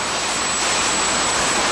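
A kerosene-fuelled jet funny car engine warms up at a race meet, a loud, steady, broadband roar with a high whine running through it, constant and close throughout.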